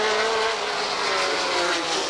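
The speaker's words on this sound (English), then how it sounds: "All 3 cars fighting for 1st place tonight." Stock cars race flat out on a short oval speedway in a Super Stock main event, a loud continuous roar of engines holding steady throughout with no breaks.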